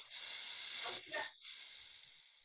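A snake hisses in three sharp, airy bursts, a long one, a short one, then another long one, loud and close with no other sound.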